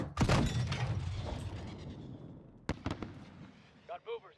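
An explosion in the Call of Duty: Modern Warfare video game, a loud close blast with debris and rumble decaying, followed by sharper secondary cracks and brief voices near the end.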